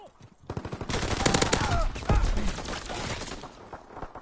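Rapid automatic gunfire in the Call of Duty: WWII video game, a loud, dense string of close shots with layered battle noise, a voice briefly heard beneath.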